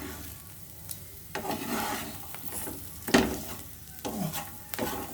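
Bitter gourd with cumin and chili fries in a pan, giving a steady soft sizzle broken by several clear stirring scrapes and taps, close by and with no talking.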